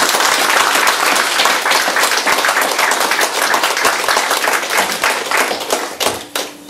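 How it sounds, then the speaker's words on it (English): A crowd at an outdoor miners' pension rally claps in steady, dense applause for several seconds before it thins out and fades near the end. "So I'd like to have a little applause for Tom as soon as he's on."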